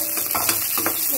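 Tamarind pulihora frying in a pan, a steady dense sizzle with a couple of faint clicks over its short length, close and even, with no talk.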